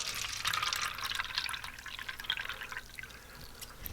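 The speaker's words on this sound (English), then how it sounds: "watch what happens when you wash your fruits and vegetables in the strong" Fruits and vegetables being washed in 11.5 pH Kangen water: a soft, continuous wash of splashing and trickling liquid with faint dripping, fairly close and steady, with no voices.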